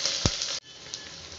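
Onions sauté in hot oil in a pan for a white kurma with butter beans, a loud, dense sizzle with one thump early on. It drops abruptly to a quieter crackle about halfway through.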